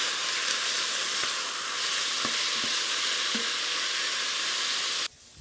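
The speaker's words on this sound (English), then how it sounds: "so that's been frying on the stovetop here for about 15 minutes" Steady, loud sizzling of beef frying in a pot on the stovetop, a dense hiss with a few faint clanks of stirring, ending abruptly.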